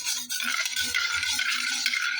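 Native chicken for adobo sa gata sizzles as it sautés in a pan, a steady bright frying hiss close up with faint stirring scrapes, and no talking.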